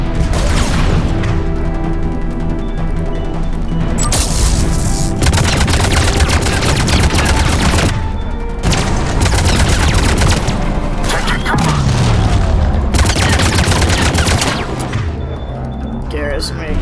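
Sustained, loud gunfire in the Mass Effect 3 video game, with dense overlapping bursts and heavy booms that run almost without break, while voices speak over the combat.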